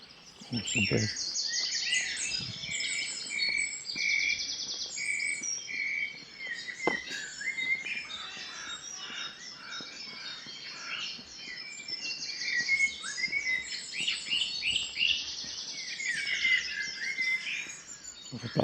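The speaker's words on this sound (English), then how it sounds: "There's a blackbird in here." A blackbird sings in woodland or garden cover with mellow, flowing phrases. Other bird chirps and faint insect buzzing fill the background, and a few soft knocks occur near the start and middle.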